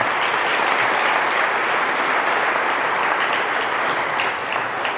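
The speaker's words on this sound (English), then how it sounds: "Let's give them a round of applause as well." Loud, dense applause from an audience at a Lafourche Parish School Board meeting, a sustained wash of many hands clapping at an even level for the whole clip.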